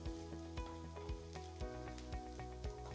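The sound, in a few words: frying urad dal and chana dal in oil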